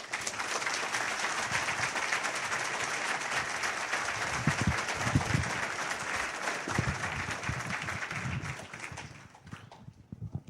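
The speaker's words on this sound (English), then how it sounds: "a very loud round of applause to a very powerful man" An audience gives a loud, sustained round of applause for a speaker at a lecture on the Disclosure Project, dense clapping that holds steady before tapering off at the end.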